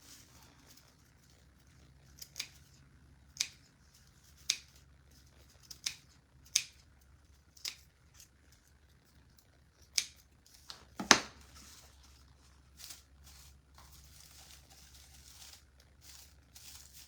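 Scissors snipping at a wonky sunflower from a craft kit, a series of separate crisp cuts spaced about a second apart, close and clear against a quiet room.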